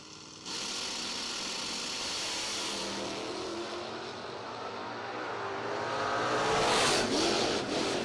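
Door-slammer drag race cars at the American Door Slammer Nationals, engines roaring loud and close, swelling as they build revs toward a peak near the end.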